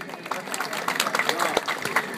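Applause from a karate demonstration audience for the fighters, scattered and uneven claps rising and falling over a couple of seconds, with some crowd murmur mixed in.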